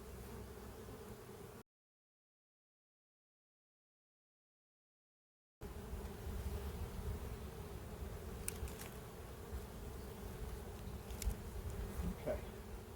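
Honey bees buzzing around an open hive, a dense steady drone of many bees close by, broken by a few seconds of silence, with faint handling clicks.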